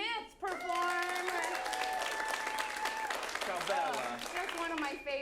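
Audience at a late-night comedy show applauding loudly and steadily for several seconds, with cheering voices and whoops mixed into the dense clapping.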